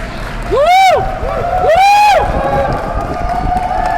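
Excited crowd cheering at a surprise party in a warehouse, with two loud rising-and-falling whooping shouts close by, followed by continuing crowd noise and possible clapping underneath.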